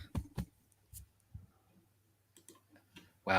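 Sparse, irregular typing clicks sound in a quiet room, a handful of short taps separated by gaps of near-silence, with a louder burst at the end.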